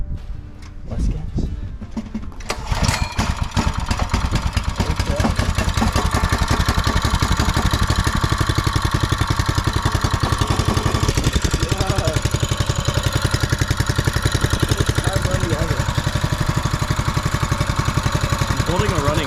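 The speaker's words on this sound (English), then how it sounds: "holding a running engine." A small go-kart engine starts up after a few seconds and runs steadily at a loud, rattling idle close by, with a bit of background noise at the start.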